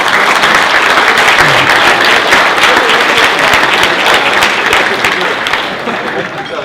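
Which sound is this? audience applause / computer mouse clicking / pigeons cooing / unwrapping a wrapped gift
audience applause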